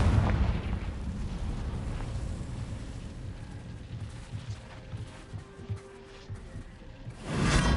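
Confringo fire-blast spell going off in Hogwarts Legacy, a loud booming burst at the start trailing into rumbling debris and ambience, with another swell of noise at the end.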